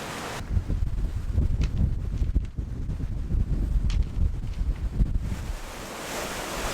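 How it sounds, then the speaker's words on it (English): Strong wind roars across the microphone with waves and surf washing around a sailboat moving at 8 knots, a loud steady rush throughout. "The wind has picked up. We're sailing at 8 knots."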